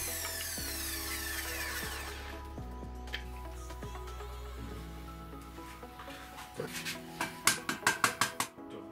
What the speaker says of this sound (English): we're cutting up a pair of wooden legs